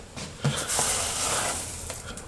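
Crumbled dry, crispy leaves rustle as they are spread by hand over a worm bin as bedding, a close crackling crunch lasting a couple of seconds.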